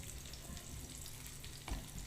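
Semolina-coated marinated mackerel fries on a hot griddle pan with a faint, steady, close sizzle and one soft bump near the end.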